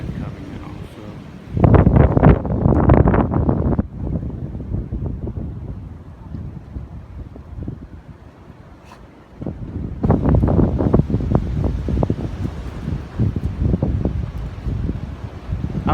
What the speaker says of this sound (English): you can hear that wind coming in also